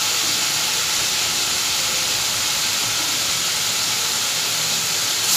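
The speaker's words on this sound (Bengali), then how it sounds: "টমেটোটা ভাজছি, এবার আমি পেঁয়াজগুলো দিয়ে দেবো।" Chopped onions go into a pan of frying tomatoes, producing a continuous loud hiss and sizzle that holds steady throughout and swells slightly at the very end.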